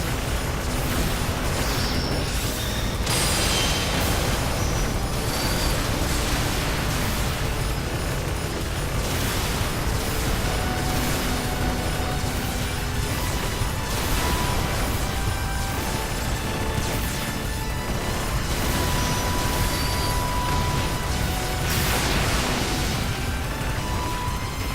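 Explosions and crashing blasts from a Contra 3-style shoot 'em up, loud and dense, with repeated bursts layered over continuous game music and effects for the whole stretch.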